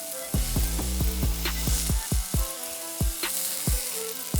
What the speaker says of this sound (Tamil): பெருங்காயம் நல்லா இது பொரிஞ்சு வரணும்